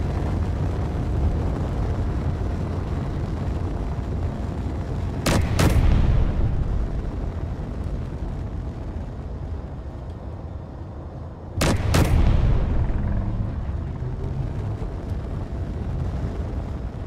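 Two separate sharp blasts from an autocannon in the video game Space Engineers, each a sudden double crack followed by a rumbling tail, over a constant low engine drone.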